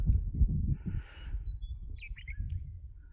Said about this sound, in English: I hear meadowlark.